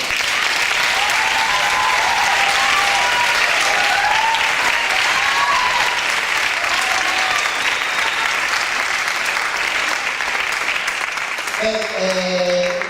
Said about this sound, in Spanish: parabéns e forte aplauso, por favor